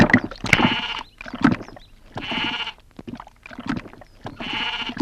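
Bleating from a goat in a rural village household setting, several loud, wavering calls repeated in bursts across the span, close by with no talk over them.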